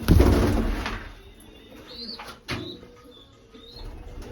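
Seven pigeons are released into the air, a loud clatter of flapping wings at first, then fading wingbeats and a few soft bird calls in the open.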